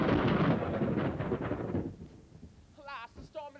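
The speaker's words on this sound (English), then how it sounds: "Alas, the storm has come again." Thunder effect during a high school stage play of The Tempest: a loud, broad rumbling roll that fades out after about two seconds, followed by a voice speaking on stage.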